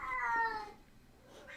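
A cat lets out a drawn-out meow up close, followed by a fainter second cry after a short pause.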